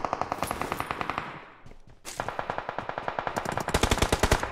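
Rapid automatic gunfire in a video game, bursts of fast repeated shots with a short lull near the middle before firing resumes, loud and close with no talk.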